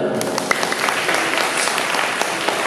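Audience applause at a concert, a dense wash of many hands clapping at a steady level with crowd noise and voices mixed in, continuous for a few seconds.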